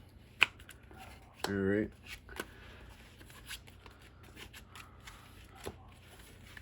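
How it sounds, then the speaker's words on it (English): Yu-Gi-Oh trading cards get shuffled once in a quick riffling burst of about half a second, with soft taps and handling clicks around it and a voice speaking briefly. "I'll go ahead and shuffle this up again"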